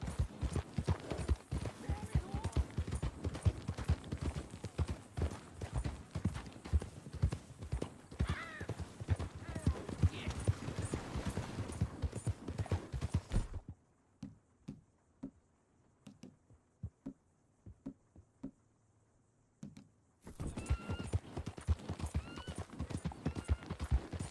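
Horse hooves clip-clop at a steady gallop in Red Dead Redemption 2, rhythmic and close with faint whinnies, falling almost silent for several seconds before the galloping picks up again.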